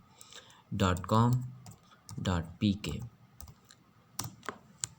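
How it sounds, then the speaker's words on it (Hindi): A web address is typed on a computer keyboard, with light, scattered key clicks under someone speaking close by. "मैंने यहाँ पर टाइप करना है vbc.com.pk"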